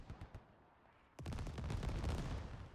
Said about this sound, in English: Mortar's now being shot south, probably to this Logi.